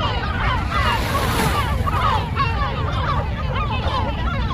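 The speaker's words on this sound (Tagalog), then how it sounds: "Pakinggan nyo na lang muna yung huni ng ibon." Birds call repeatedly over steady surf at a warm beach, chirping calls rising and falling above the constant wash of waves.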